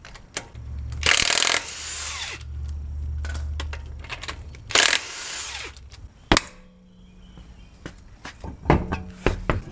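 A power tool removes a wheel on a 2000-2007 Lexus LX470 during an axle replacement: two short, loud mechanical bursts separated by quieter clinks, knocks and handling noises over a low hum.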